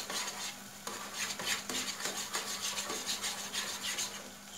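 A utensil stirs onion and tomato paste in a pan with rhythmic, close scraping and rubbing strokes over a faint sizzle. The strokes come in quick repeated sweeps, with no voices.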